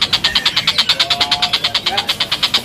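An adult tengkek kingfisher chatters in a fast, steady, pulsing series of close, loud notes that chug like an engine, while someone speaks briefly over part of it.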